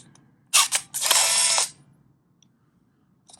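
The back of a Nikon L35AF film camera is popped open, giving a sharp click followed by a short burst of mechanical rattling, up close in an otherwise quiet room.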